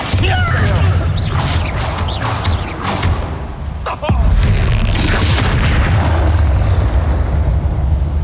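Bombarda spell explosions in Hogwarts Legacy, loud booming blasts and crashing impacts in quick succession amid chaotic combat noise, with a short lull before a heavy rumbling burst.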